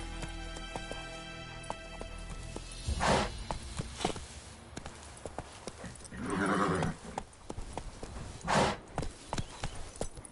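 Horse hooves clip-clop at a gallop in The Witcher 3, with whooshing gusts and a couple of neighs mixed in, moderately near and without talk.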